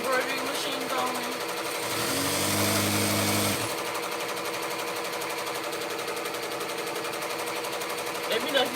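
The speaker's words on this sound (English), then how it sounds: "I know the embroidery machine can be pretty loud." An embroidery machine runs steadily throughout at a fairly loud level, with a denser mechanical burst in the middle, while a person talks over it.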